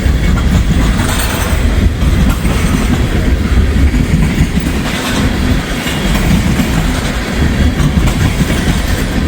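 A Norfolk Southern freight train with boxcars and covered hoppers rolls past on a freezing day, its loud, close, continuous rumble and clickety-clack of wheels filling the whole stretch.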